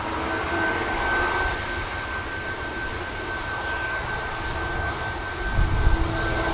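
A Ryanair airliner rotating off runway 23 left at Manchester Airport, a steady broad engine roar at moderate distance with a sustained whine, continuous throughout with a slight rumble swelling near the end.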